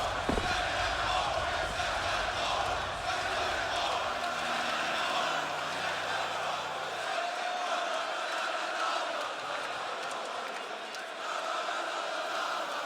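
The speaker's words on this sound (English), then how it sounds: "the crowd in Budapest are chanting to send you home" Spectators at the StarLadder Budapest Major 2025 Counter-Strike quarterfinal between MOUZ and FaZe chant together in a large arena, a sustained distant roar of many voices under faint tonal game and broadcast sound, easing off toward the end.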